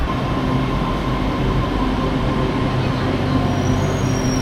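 A Ho Chi Minh City metro train runs steadily with a continuous low rumble and rolling noise, a faint high whine rising near the end, no voices.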